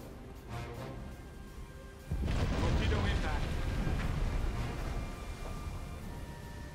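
A torpedo strikes a ship in the WWII submarine game Silent Hunter 4: Wolves of the Pacific, a sudden heavy booming explosion that swells and rumbles on for several seconds over steady ambient noise.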